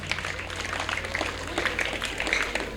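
An audience applauds a speaker at an awards ceremony for high-school students: steady, even clapping from a moderate-sized crowd, sustained throughout at moderate loudness without pause.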